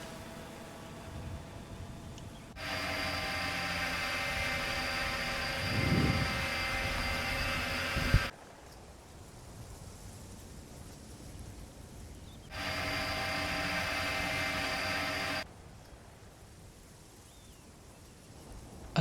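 A UAV drone in the military simulation game Arma 3 hovers in bursts: a steady, loud whirring rotor drone with bright high tones switches on and off, a low thump midway, with quieter gaps between runs.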